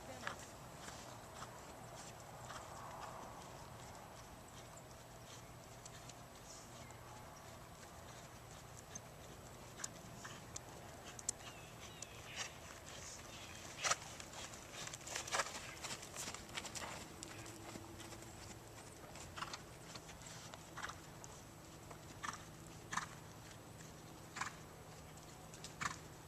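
A ridden horse, a mare, trots steadily, her hooves clip-clopping in an even rhythm over low background noise while a trainer talks over the hoofbeats.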